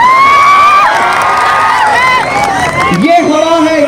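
A large crowd at a Congress election rally in Nanded, Maharashtra, cheers and shouts loudly, with raised voices and whoops rising and falling in a dense, continuous roar across the whole stretch.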